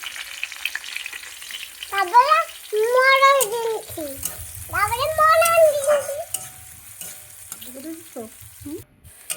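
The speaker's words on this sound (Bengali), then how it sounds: "পেঁয়াজটা ভালো করে একটু ভেজে নিয়েছি।" Chopped onion and green chilli fry and get stirred in a pan with a continuous sizzle and scraping, while a person talks over it.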